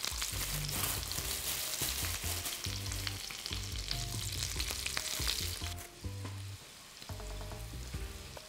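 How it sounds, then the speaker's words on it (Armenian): Flour-dusted liver fries in a pan with a strong, crackling sizzle up close, running throughout over soft background music. "Երբ տապակում ենք լյարդը"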